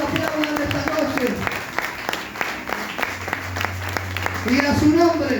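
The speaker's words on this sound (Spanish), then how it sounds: "Vamos, aplaudan esta noche." Church congregation clapping together during a lively evening service, steady rhythmic applause running throughout with voices and singing mixed in, and a low hum entering toward the end.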